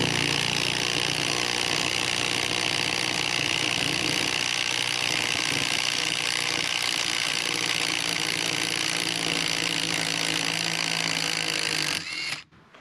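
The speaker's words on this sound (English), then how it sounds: "the lag bolt stopped right there. Let's go ahead and reverse it out" A Walmart impact driver runs in reverse backing a lag bolt out, a steady, loud, buzzing hammering drone held close for about twelve seconds before cutting off sharply.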